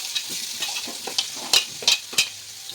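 Onions sizzle in a hot pan while a spoon stirs them. Under a steady frying hiss, sharp scraping strokes land in an uneven rhythm, close up and with no talking.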